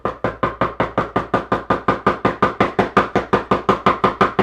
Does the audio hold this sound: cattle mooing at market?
no